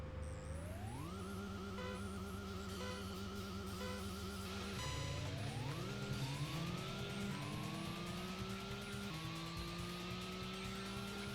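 A car races down a highway in a video game, its engine revving up through the gears in rising whines and dropping at each shift. Tire noise sits underneath, loud and continuous with no talk.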